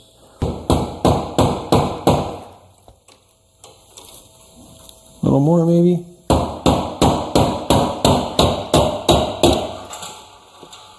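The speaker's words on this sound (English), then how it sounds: "So let's get a rubber mallet." A steady series of loud, dull thuds from a rubber mallet striking a Yamaha Big Bear ATV clutch, about two per second, broken by a short spoken phrase and a brief whine before the blows resume.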